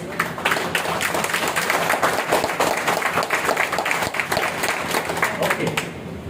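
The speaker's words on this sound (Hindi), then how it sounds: "अपने आप के लिए एक बार जोरदार ताली बजाओ" An audience claps loudly and continuously at a workers' gathering, dense applause filling the room for several seconds without pause.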